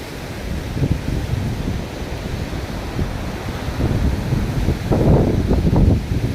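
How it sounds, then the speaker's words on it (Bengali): Strong storm wind of a kalbaishakhi squall blowing across an open field, a loud continuous roar with gusts swelling near the end. "যেন মানে প্রচণ্ড ঝোড়ো হাওয়া।"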